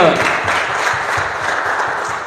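A church congregation claps and cheers at a Sunday service, a dense, steady burst of applause that fills the room for a couple of seconds, with a few voices mixed in.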